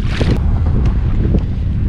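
Steady wind buffets the microphone on an open stretch of water off Cumberland Island, Georgia, during a fall fishing trip, making a constant, loud rumbling roar with faint lapping water beneath it and no talk.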